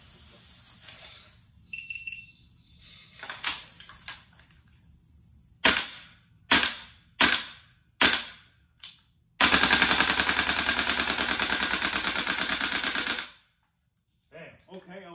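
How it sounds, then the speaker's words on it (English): Gas blowback airsoft rifle fired in freezing cold, several single sharp pops spaced a second apart, then a fast continuous full-auto burst emptying the magazine for about four seconds, loud and close. "I was able to shoot the whole mag out of it."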